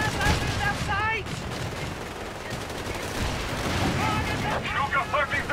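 Enemy heavy machine gun fire in the video game Company of Heroes 3, steady rattling bursts mixed with battlefield booms, under shouted in-game voice lines.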